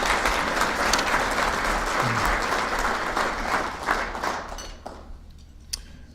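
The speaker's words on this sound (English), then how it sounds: "let's please give him a round of applause for that great play" Applause for a golfer fills a Georgia PGA awards banquet hall: dense, steady clapping from a large audience for about five seconds, then thinning out with a few last claps near the end.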